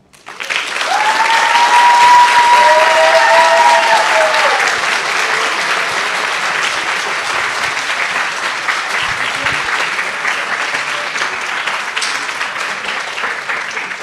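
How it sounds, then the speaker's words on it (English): A business plan presentation finals audience breaks into loud, sustained applause and clapping that swells quickly and carries on steadily for the whole stretch, with a few whoops rising over it and no talk. "Once again, big applause."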